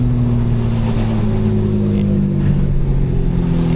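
A steady, loud engine drone from a 750 hp BMW M4 exhaust on a night drive, with a deep low rumble holding throughout, idling and revving slightly, close by.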